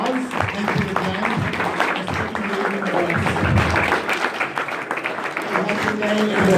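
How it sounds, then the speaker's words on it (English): Audience at a St. Louis mayoral candidates' forum breaks into a sustained round of clapping, dense and steady for several seconds, with a speaker's voice continuing over the applause. "let's give the candidates a big round of applause"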